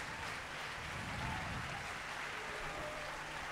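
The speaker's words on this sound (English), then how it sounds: "Big round of applause for Mr. Jimmy Im and his lovely wife" Audience applause for a man named Jimmy Im and his wife Cynthia at a duet singing fundraiser event, a steady, fairly soft wash of clapping from a crowd that holds evenly throughout.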